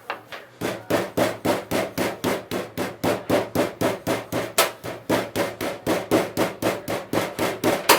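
Venison meat being pounded flat with a mallet, loud and close: a steady series of about twenty-five evenly spaced dull thuds at roughly three blows per second, with no talk.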